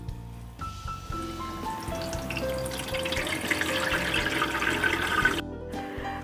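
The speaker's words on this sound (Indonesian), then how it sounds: "Saya masukkan air sampai sejajar dengan berasnya ya." Water runs steadily from a tap into a pot of rice seasoned with salt and mushroom stock for nasi liwet, a continuous close splashing stream that cuts off abruptly near the end, with no voices.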